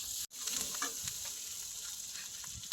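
Ginger and garlic frying in a pan, a steady bright sizzle throughout with a brief cut near the start and light stirring scrapes.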